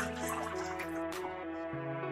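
Water poured from a vessel into a cooking pot on a stove for a chickpea chaat, a soft continuous trickle and splash heard close and fairly faint, with no talking.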